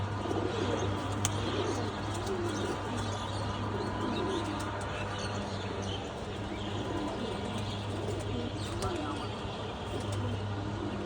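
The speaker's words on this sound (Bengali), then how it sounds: "সব মাদি কবুতর এগুলো, পুরানো মাদি কবুতর এগুলো" Older female pigeons in a breeding loft give low coos and faint chirps, and the flock murmurs steadily beneath a constant hum throughout.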